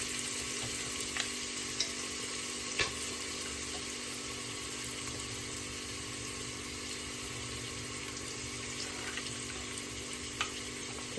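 Carrots and cashews fry in hot oil with cloves, cardamom and cinnamon for pulao, giving a steady close sizzle throughout with a few faint clinks and scrapes from stirring.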